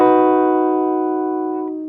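A clean electric guitar plays the next line of a song as a single sustained chord that rings bright and clear up close, decaying gradually over about two seconds with no voices.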